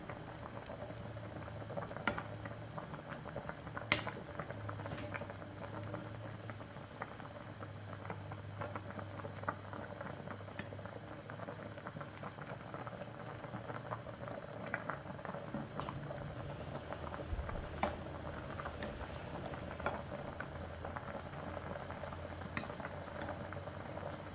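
A pot of dongtae-jjigae, Korean pollock stew, simmers at a steady bubble, giving soft continuous popping and patter with an occasional louder blip, quiet and close, with no voices.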